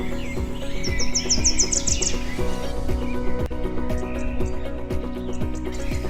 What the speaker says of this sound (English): It screams to communicate with other cockatoos.